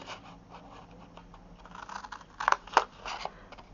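Scissors snip small notches into cardstock box flaps, a few soft, close cuts with faint scratching and rustling between them, growing slightly louder toward the end.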